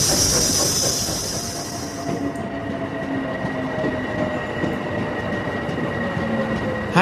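A train pulls into Hackney Station with a loud, close rumble of wheels on rails and a bright high squeal fading after the first two seconds, then steady rolling noise with thin tonal whines.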